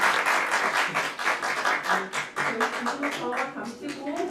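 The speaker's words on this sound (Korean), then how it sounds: "좋은 발표해 주신 발표자분과 토론자분께 큰 박수 부탁드리겠습니다" An audience at an academic law education conference applauds after a presentation and discussion, with sustained clapping from many hands that swells and fades slightly, while a voice speaks over it.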